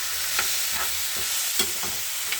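Chicken pieces sauté in olive oil over sautéed tomatoes, giving a loud, steady sizzle broken by repeated spatula strokes against the pan at a roughly even pace.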